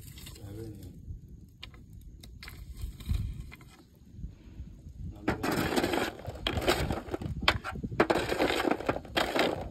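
Roasted cashew nuts, not fully dried, are cracked open one after another, close crunching and cracking bursts that grow denser and louder in the second half, following a quieter stretch with faint voices.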